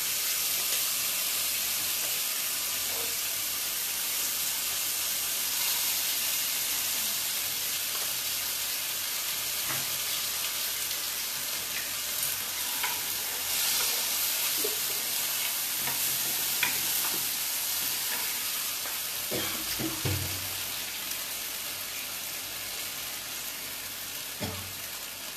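Ginger, green chilli and tomato paste fry in a pan with a continuous close hiss and sizzle, broken by occasional stirring clinks and scrapes, with no talking.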